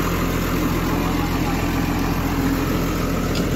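A New Holland T6090 tractor engine idles steadily in a field setting, a constant low rumble holding at an even, loud level throughout with no revving.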